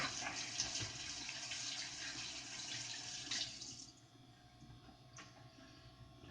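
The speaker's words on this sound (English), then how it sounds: "Wash my hands here for a second." Hands being washed under a running kitchen tap, a steady faint splash of water that thins out partway through, with no talking.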